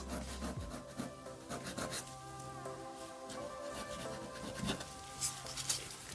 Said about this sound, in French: Je prends une lime pour enlever tous les petits défauts du contour.